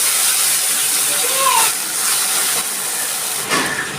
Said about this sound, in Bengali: আমি বাটি দিয়ে একটু জল দিয়ে দিচ্ছি।